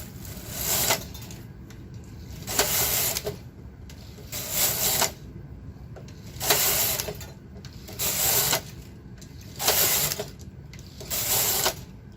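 A Silver Reed SK560 knitting machine with ribber attachment knits rows, its carriage passing back and forth in six loud rattling, clacking sweeps at an even rhythm, close by with no talk.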